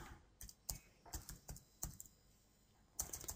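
Fingers type a password on a computer keyboard in short bursts of distinct key clicks separated by pauses, fairly quiet and close, with no talking.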